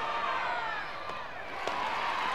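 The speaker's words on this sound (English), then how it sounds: "The crowd yelling out Laura Mueller's name to make sure she secures it" A college softball crowd in Tennessee vs Nebraska keeps up a steady, diffuse roar of yelling and cheering, like a stadium calling out a fielder's name. The sound is loud and continuous, with a couple of faint knocks and no clear talk.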